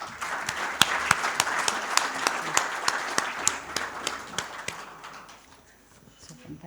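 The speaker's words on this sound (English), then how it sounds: "Could you please help me to give them a warm round of applause?" A round of applause for distinguished panelists at a World Bank event on South Asia's food systems, with a few sharp, distinct claps standing out near the front, fading out over the last couple of seconds.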